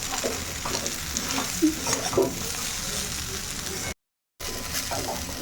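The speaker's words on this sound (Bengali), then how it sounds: "এখন এটাকে বেশ ভালো করে ফ্রাই করব" Okra stir-fried in a pan gives a steady, moderate sizzle broken by scraping stirs and occasional clinks, with a short silent gap near the end.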